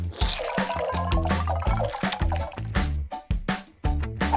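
Clay and lemon juice are stirred together into a wet paste, making close, squelchy, dripping sounds in quick irregular strokes with no voices.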